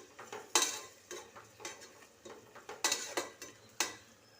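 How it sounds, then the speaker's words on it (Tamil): Ginger-garlic paste sautéed with onions in a pan for mutton biryani, a soft sizzle under a run of distinct spatula scrapes and taps against the metal, roughly eight strokes at an uneven pace, close and fairly quiet. "இஞ்சி பூண்டு சேர்த்துக்கிறேன். இதையும் நல்லா வதக்கிக்குவோம்."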